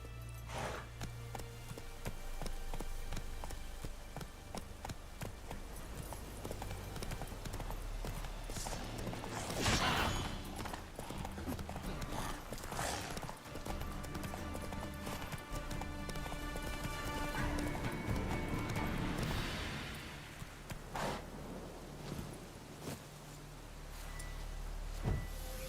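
A horse gallops at a steady run under the player as Roach in The Witcher 3: Wild Hunt, with rapid clip-clop hoofbeats carrying on throughout over layered game music and ambience.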